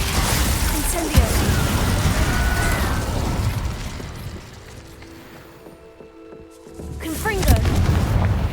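Incendio fire spell cast in the Hogwarts Legacy video game, a burst of whooshing flame and crackling bangs over dense game ambience, with louder impacts near the start and end and a quieter stretch in between.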